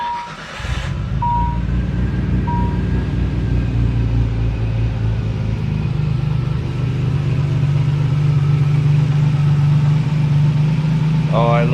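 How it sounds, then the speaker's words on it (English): A Nissan 300ZX fitted with an RB26 engine makes its first cold start after a tune: a brief crank and catch, then a loud, steady, rumbling idle that holds close up. "let's give the car its first cold start since its tune and see what kind of changes and improvements are in that initial cold startup phase"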